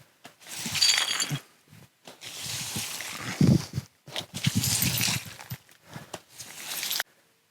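Shards of broken glass are swept out of an empty desert pool with a broom, in bursts of scraping, tinkling and clinking close by, separated by short pauses.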